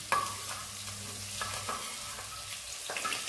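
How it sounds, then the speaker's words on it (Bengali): Finely chopped onions fry in a pan, a close, even sizzle with a few soft stir strokes at intervals, no voices. "এটাকে আমি একটু লাল লাল করে ভেজে নেব।"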